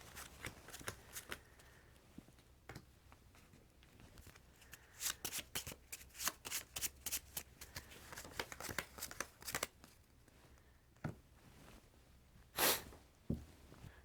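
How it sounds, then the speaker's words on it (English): A deck of board-game cards is shuffled up close, with soft sliding between riffles and sharp, rapid bursts of flicking cards coming in bunches and stopping and starting again, some bursts loud, set against quiet gaps. "they just got to shuffle up all their discard piles, draw a complete new hand of cards"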